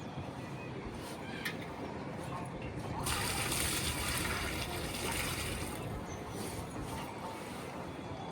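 Water pours and splashes steadily onto potted plants in a terrace garden, a continuous rushing wash that grows fuller partway through, with soft talking beneath it.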